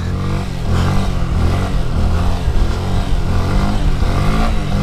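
Motorcycle revved hard and whipped around an empty stunt lot, engine surging and dropping in steady continuous bursts, loud and close throughout with no talking.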